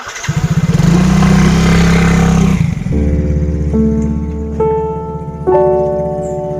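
An old, run-down motorcycle engine turns over and catches, then revs hard in throaty bursts before settling into a loud, uneven idle with sharp throttle blips, close by and with no talk over it.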